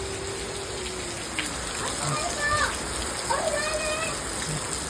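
Rain falls steadily in a village as a soft, continuous hiss, with occasional faint voices and background movement underneath.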